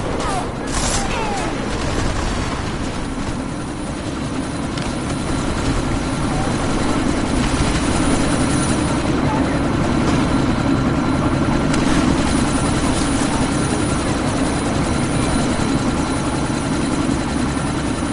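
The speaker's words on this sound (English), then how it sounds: "That chopper's about to take off!" A helicopter in the video game Deus Ex: Mankind Divided takes off with a loud, continuous rotor roar and engine whine that grows slightly stronger, with sporadic gunfire crackling in the background.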